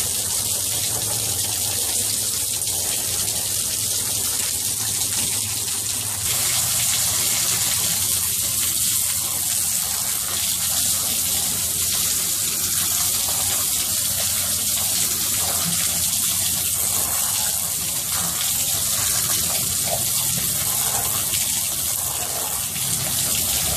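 Water streams steadily from a hose onto absorbent flood bags at a doorway, a continuous near gushing splash that gets slightly stronger partway through, with no voices.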